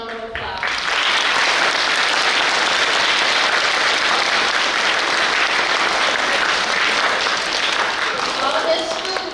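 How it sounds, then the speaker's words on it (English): An audience at a school Veterans Day assembly breaks into loud, sustained applause, many hands clapping densely for about nine seconds in a reverberant hall before tapering off. "Let's give them a round of applause."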